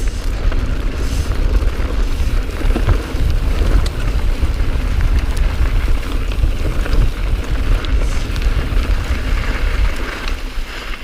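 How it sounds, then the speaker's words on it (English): Steady rain falls on a mountain trail during a mountain bike descent, a continuous broadband hiss mixed with rumbling wind and ride noise that holds loud and unbroken throughout, with no talking. "And it's raining."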